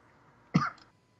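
A single short, sharp cough, close and fairly loud, standing out against a quiet background.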